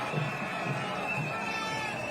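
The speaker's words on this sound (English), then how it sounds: "as the crowds get bigger at the side of the road" Roadside crowd at a cycling race in Rwanda, a steady murmur of spectators with faint shouts and cheers spread evenly across the scene, sustained at moderate level with no clear peaks.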